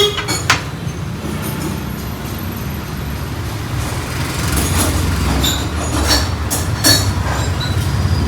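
A passing white train with a loud, steady low rumble of rolling wheels and carriages that swells toward the end, marked by sharp clanks and faint metallic squeals.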